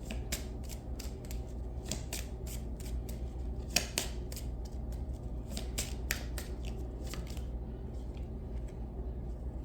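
Tarot cards being shuffled and handled in a steady run of crisp, rapid riffles and flicks, close and fairly loud throughout, over a low steady background hum with no talking.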